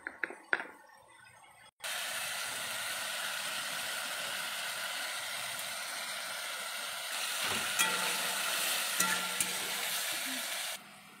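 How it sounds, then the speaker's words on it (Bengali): Water poured into a hot pan of cooking chatu sets off a sudden loud hiss that settles into steady, close sizzling and bubbling, with a few light stirring knocks, before cutting off near the end. "জল ঢেলে দেবো।"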